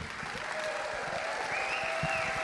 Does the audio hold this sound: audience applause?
yes